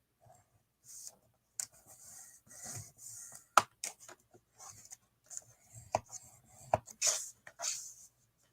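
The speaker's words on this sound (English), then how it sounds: "you are going to score a ½ inch on the bottom" A tool scores a line across the paper base of a hidden hinge album, producing sparse, close scratching strokes and sharp ticks separated by short quiet gaps.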